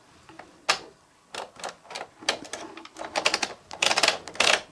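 A punch card machine runs a hand-cut pattern card held in a loop with small plastic clips, giving a fast, dry mechanical clatter in uneven bursts that grow denser toward the end.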